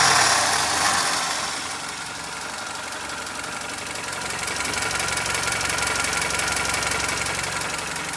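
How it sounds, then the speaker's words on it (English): A car engine cranks and fires up after its fuel pump is reconnected, settling into a steady, slightly knocking idle that rumbles on evenly with no talk. "we're gonna start our car and see if it starts"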